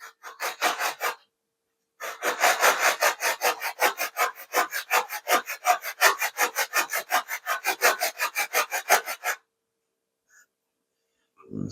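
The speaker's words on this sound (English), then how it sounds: "I'm just taking my time, making sure I'm sanding this evenly." Hand sanding the wooden vertical fin of a giant scale P47 Razorback model plane, steady rhythmic rasping strokes in close bursts, with a brief pause early on and quiet after the strokes stop.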